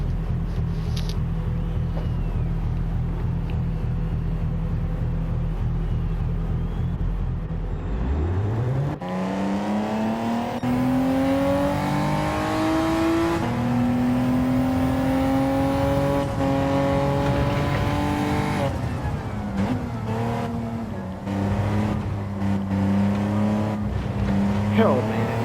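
Race car engine from the Gran Turismo 7 game, first a low steady idle, then revving up through rising gears with tire squeal and changing pitch, loud and continuous with someone talking over parts of it.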